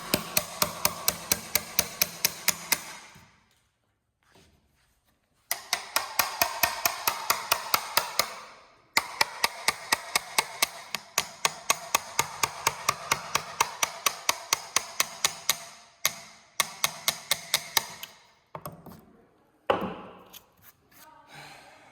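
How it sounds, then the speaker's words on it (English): A hammer drives a chisel into rough timber to cut a lap joint for a beam, loud rapid blows in long steady runs with a few brief pauses between bursts. "I'm angling the chisel just to get a bite here. As soon as it grabs, then I'll flatten it back out."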